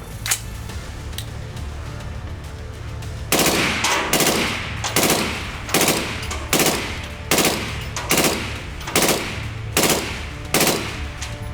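KGM R556A2 rifle in 5.56 NATO firing suppressed 3 to 5 round bursts, a steady stream of single shots first, then about ten loud, evenly spaced bursts of rapid cracks with no talk.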